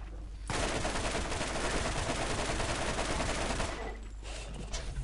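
Sustained gunfire at shielded enemies in the Borderlands video game, a dense, loud rattle of rapid shots lasting several seconds before it drops back to quieter game sound.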